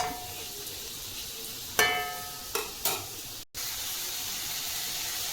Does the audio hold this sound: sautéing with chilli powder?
yes